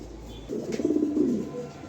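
A low, rolling coo from racing pigeons sounds close by, a soft throaty warble that swells and lingers for about a second, with no talking.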